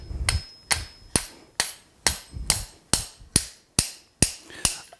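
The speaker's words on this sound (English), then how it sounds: "Now, I normally do my upsetting with a little bit of a lighter hammer." A blacksmith upsets hot steel on an anvil with a light hammer, gripping the piece in box-jaw tongs: about eleven loud, evenly spaced ringing blows close up, each with a short metallic decay.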